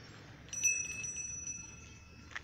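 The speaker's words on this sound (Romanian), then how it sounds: "Dai din clopoțel?" A small bell rings with a light, sustained tinkle, fairly faint against quiet background noise, ending with a soft clink.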